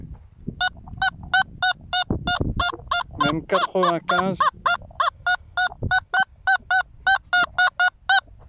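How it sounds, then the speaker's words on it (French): Rapid, evenly spaced duck honks repeat in quick bursts, loud and close, during metal detecting outdoors, with a brief stretch of a voice talking partway through. "Vous avez vu, c'est les canards là."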